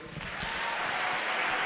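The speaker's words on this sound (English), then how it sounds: "give them a big round of applause" A crowd applauds musicians at a performance, producing a brief, steady wash of dense clapping that stays fairly loud throughout.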